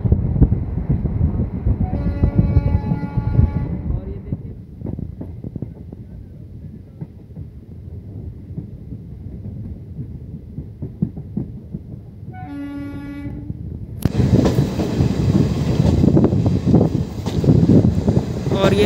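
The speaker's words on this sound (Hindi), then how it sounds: "ये देखिए 100 की रफ्तार पर अपना दम दिखाती हुई मथुरा जयपुर पैसेंजर" The Mathura-Jaipur 04173 passenger train in India passes at about 100 km/h, with a loud, continuous rolling rumble and clatter. Two blasts of the train horn sound, one early and one later, as the noise swells toward the end.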